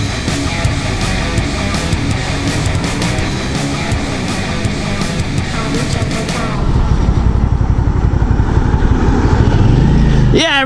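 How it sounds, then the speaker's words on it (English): A loud engine rumbles and idles close by for a garbage truck driving, with heavy broadband noise and some voices over it, settling into a steadier drone toward the end. "Yeah, rubbish truck, let's go!"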